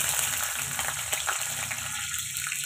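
Green chillies dropped into hot oil already crackling with mustard seeds, cumin, urad dal and chana dal for a tempering, giving a steady, close, dense sizzle and fry hiss with no pauses.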